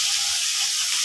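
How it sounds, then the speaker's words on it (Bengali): Fish fillets frying in hot oil in a home kitchen, a loud, steady, close sizzle that holds without a break through the whole moment, with no voices. "অল্প কিছুটা ভাজা হয়েছে, অর্ধেকটা ভাজা হয়েছে, তো উল্টে নিচ্ছি মাছগুলোকে।"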